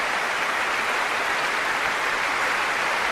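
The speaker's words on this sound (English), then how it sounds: "And the whole orchestra now rises to accept the applause" Concert audience applauding the Philharmonia orchestra as the players rise after a performance of Elgar's Enigma Variations, a dense, steady wash of clapping filling the hall without a break.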